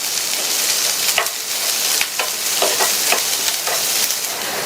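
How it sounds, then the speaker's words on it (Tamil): Okra frying in oil in a pan gives a steady, loud sizzle, broken by several sharp scrapes of a stirring spoon. No one speaks. "அதை சேர்த்துட்டு இந்த வெண்டைக்காயை 5 நிமிஷத்துக்கு இந்த எண்ணெயிலேயே வதக்கிக்கங்க."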